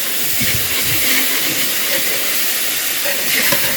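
Canned beef broth hits a hot pan to deglaze it, throwing off a loud, continuous steamy hiss that holds steady throughout with a few faint clicks underneath.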